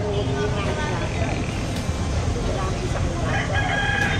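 Roosters crow and chickens cluck in a Barangay South Triangle street setting, under constant loud outdoor background noise with traffic and people talking nearby.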